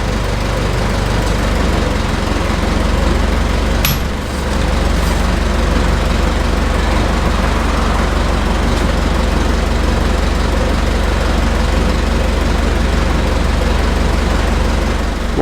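A Kia Sportage R diesel engine idling after an oil change, a loud, steady close-up rumble that continues without a break, with one brief sharp knock near the start.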